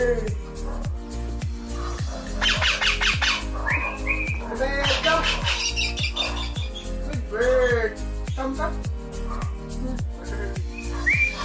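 A young Indian ringneck parakeet in free-flight training gives repeated sharp squawks and whistled calls over an upbeat music track with a steady pounding beat, while a voice sings or talks along.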